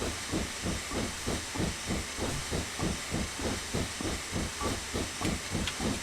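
Rhythmic chuffing hiss of a steam locomotive on the Elsecar Heritage Railway in the Railworks 3 train simulator, regular pulsing exhaust beats over a constant steam hiss, steady and close.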